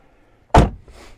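A door on a Jeep concept van built to look like a panel van, with its outside handle removed, thuds shut once in a single loud, close impact, followed by a brief faint rattle and then quiet.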